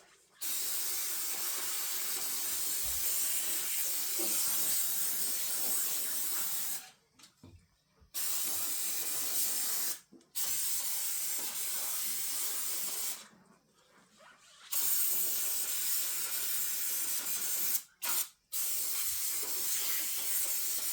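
Cleaner sprays from an aerosol can during a basic oil change, in long steady hissing bursts broken by short pauses, loud and close.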